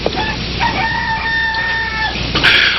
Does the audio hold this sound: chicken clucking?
yes